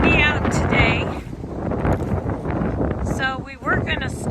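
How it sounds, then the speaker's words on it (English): Strong gusty wind outdoors in a garden buffets the microphone with a low rumbling roar, while people talk over it and birds chirp faintly in the background. "It's really windy out today."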